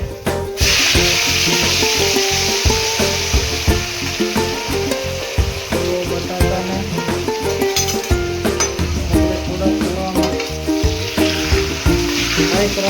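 Potatoes tossed into hot oil seasoned with asafoetida give a loud, continuous sizzle, with steady stirring and occasional clinks of a utensil against the pan throughout.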